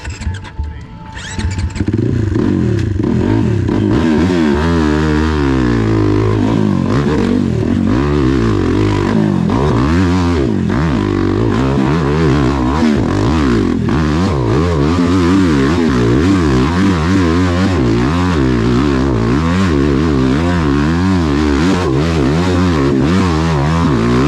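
Hill climb racing motorcycle roars continuously close by, engine revving hard and shifting up and down through gears as it climbs, loud and alone after a brief quieter start.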